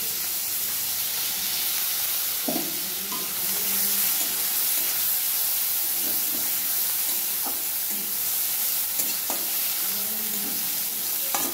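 Blended paste for rui fish curry fries in a pan with a continuous loud sizzle, punctuated by periodic stirring scrapes and spoon taps.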